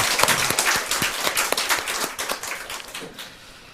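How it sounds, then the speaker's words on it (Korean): A church congregation claps to welcome a newly attending member, a short burst of close, brisk applause from a modest crowd that thins out toward the end. "박수로 환영합니다"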